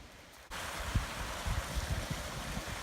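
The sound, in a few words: small waterfall beside a mountain trail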